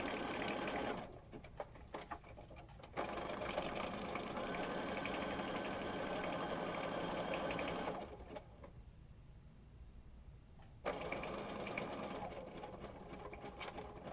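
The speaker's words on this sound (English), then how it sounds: "Especially if I'm working on the sewing machine, I don't want it to sew over my fingers." A sewing machine stitching a fabric cover runs in long steady bursts, stopping briefly between stretches of fast mechanical stitching.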